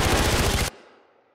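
Far Cry 4 gunfire rips out in a loud, rapid automatic burst lasting under a second, then cuts off, leaving a fading tail.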